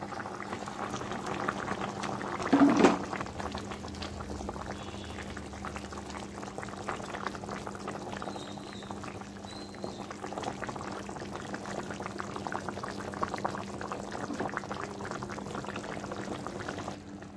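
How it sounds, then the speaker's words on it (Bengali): A pot of fish curry with potato and tomato bubbles at a steady simmer, a continuous soft boiling burble close by, with a brief louder clatter early on. "মাছের ঝোলটা সুন্দর করে ফুটে উঠছে"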